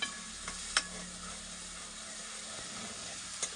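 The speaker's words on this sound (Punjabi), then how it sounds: "ਆਪਾਂ ਮਸਾਲੇ ਨੂੰ ਚੰਗੀ ਤਰ੍ਹਾਂ ਭੁੰਨ ਲੈਣੇ" Spice masala roasting in a pan for aloo paneer, a steady close sizzle and frying hiss with a few sharp scraping stirs on top, no voices.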